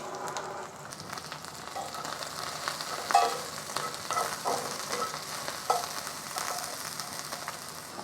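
Chopped onions and ginger sauté in a pan with a continuous moderate sizzle, joined by soft scraping stir strokes and a couple of louder knocks against the pan, with no talking.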